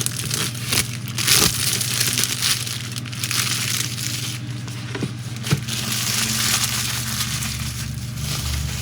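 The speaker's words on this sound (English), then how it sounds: "There's something so satisfying about taking off the plastic off of a model," Plastic wrap is peeled off a Polar Lights Star Trek Discovery U.S.S. Shenzhou NCC-1227 model kit, giving a steady close-up crinkling and crackling with a few louder tearing snaps over a low hum.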